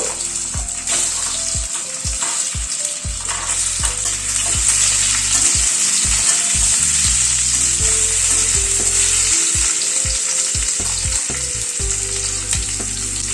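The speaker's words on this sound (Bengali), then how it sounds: "এবার এই আলুটাকে দিয়ে দিচ্ছি। আলুটাকে আগে হালকা করে একটু ভেজে তুলে নেব।" Potato pieces sizzle loudly in hot oil in a wok-style kadai, a steady bright frying hiss with occasional low bumps and clinks of stirring, close and continuous with no talk.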